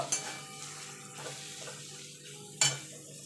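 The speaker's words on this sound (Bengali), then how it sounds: "কাশ্মীরি লঙ্কার গুঁড়ো দিয়ে ভালো করে এটাকে একটুখানি নাড়াচাড়া করে নেব" A spoon stirring Kashmiri chilli powder into oil in a pan for chicken curry, soft scraping with a gentle sizzle underneath and two sharper clinks of metal against the pan.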